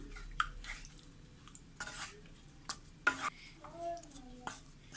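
A spoon stirs curd into a Kerala sadya pineapple pachadi (sweet pachadi), giving soft wet squelches and scraping clinks in scattered bursts against a quiet, faintly humming background.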